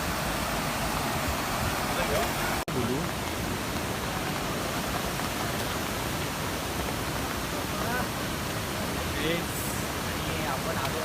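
Rushing water at Savat Sada waterfall near Chiplun in the Konkan, a steady broadband roar filling the whole stretch, close and constant, with no talking.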